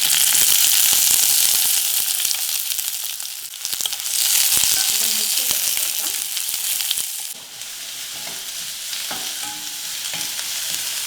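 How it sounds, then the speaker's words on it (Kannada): Chopped onion fries in a pan with a loud, continuous sizzle and crackle that swells and dips as it is stirred, with no voices. "ಹಾಗೆ ಕಟ್ ಮಾಡಿರೋ ಈರುಳ್ಳಿ"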